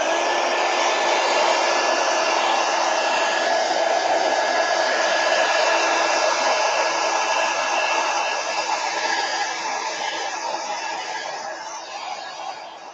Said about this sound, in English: I'm going to hit it with a heat gun right now.